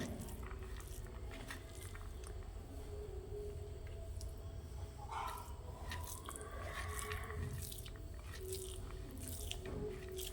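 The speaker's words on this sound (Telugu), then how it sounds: "ముందుగా నేనైతే తినేసేస్తున్నాను, ఆకలి అవుతుంది" Close, quiet chewing and biting of home-cooked food, soft squishy mouth sounds repeating over a steady low background hum, with no talking.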